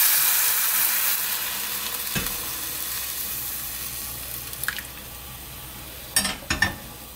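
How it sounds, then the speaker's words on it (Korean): Broth goes into a hot pot of fried meat for Korean sundubu stew, giving a steady sizzle and bubbling hiss that slowly fades, with a few sharp clinks of pot and utensil near the end. "아까 끓여두었던 육수를 이렇게 넣습니다"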